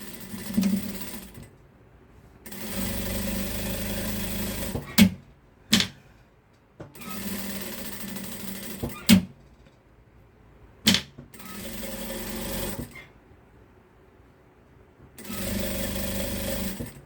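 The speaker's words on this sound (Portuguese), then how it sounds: "Aqui a gente vai costurar toda a volta." A sewing machine stitches around the edge of a piece of fabric in several loud, steady whirring runs broken by short pauses and brief mechanical clacks.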